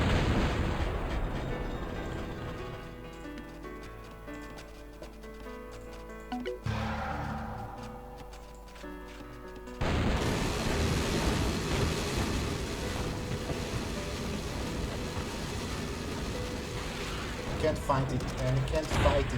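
Rocket explosions and battle fire in a war strategy video game simulating the Six-Day War, a dense continuous barrage of loud blasts and rumbling that drops briefly before surging back, with a voice faintly present.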